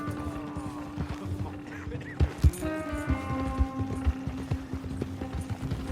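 Horse hooves clip-clop on the ground in the video game Red Dead Redemption 2, with a steady plodding rhythm under a whinny, creaking mechanisms and distant game ambience, close and moderately loud.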